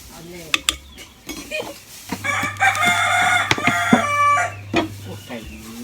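A rooster crows loudly in a drawn-out call, close by, preceded and followed by short clucks and clattering knocks outdoors.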